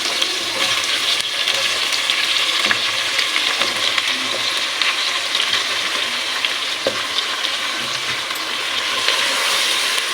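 Cauliflower sizzles and fries in hot masala in a pan, a loud, continuous close hiss with occasional small pops and stirring clicks.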